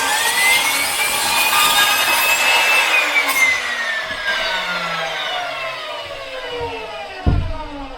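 A power saw cutting wooden narrowboat bow doors to size, a loud continuous whining cut with a sliding pitch across several seconds, close up, ending with a short knock.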